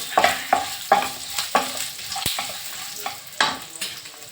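Urad dal frying in oil in a pan for tomato chutney, a soft steady sizzle broken by regular spatula scrapes about every half second, close and clear with no talking.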